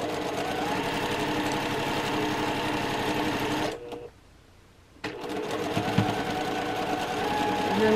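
Sewing machine running steadily as it stitches a quarter inch seam across nested seams on a quilt block, a loud continuous mechanical whir that stops briefly for about a second midway, then resumes.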